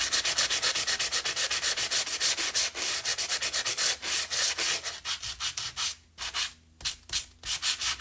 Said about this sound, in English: you can do as much or as little sanding as you want